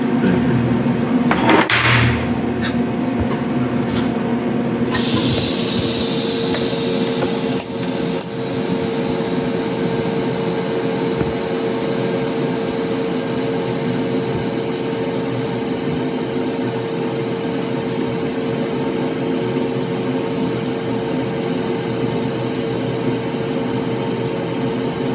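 A TIG welder with argon gas, a gas lens and thoriated tungsten runs a bead on the end of a chromoly mountain bike frame tube, giving a steady, even hiss and buzz that holds throughout after a few brief clicks near the start.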